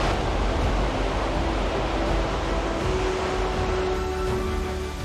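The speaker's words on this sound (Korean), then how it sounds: "세차게 떨어지는 폭포수에" Heavy water crashing down from a waterfall at Plitvice Lakes, Croatia, in a constant, broadband roar, close and loud throughout.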